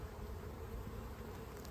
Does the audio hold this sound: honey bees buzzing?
yes